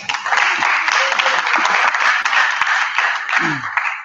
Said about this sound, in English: Can we give them a collective round of applause, please?